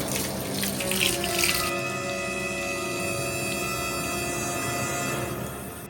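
Well water runs from a tap in a steady, hissing stream, louder and splashier at first, then settling into a constant rush for several seconds.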